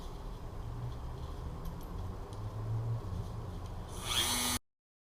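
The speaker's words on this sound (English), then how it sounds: "we'll take our Dremel tool and we'll grind this up a little bit, rough it up, and put some little grooves in it" A Dremel rotary tool grinds grooves into a metal lamp pipe, a steady high whirring buzz that rises to a brighter, louder whine near the end before cutting off.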